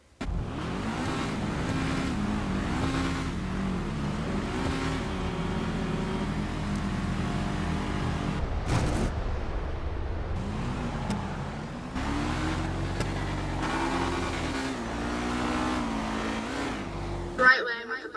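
Cars drag racing in the GTA 5 video game, steady engine drone with rising and falling revs throughout, a brief break near the middle, a voice talking over it.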